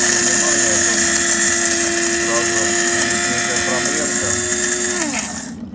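A Galaxy Line GL0907 coffee grinder whirs at a steady high-pitched drone for about five seconds, then winds down as its motor stops.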